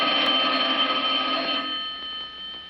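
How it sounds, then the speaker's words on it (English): An old telephone bell rings insistently in a 1953 film, The Blue Gardenia, a loud, bright continuous trill that fades slightly toward the end, with no voices over it. "You can make it stop ringing by taking the receiver off the hook."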